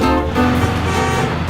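A loud vehicle horn blares continuously and close by over road and engine noise.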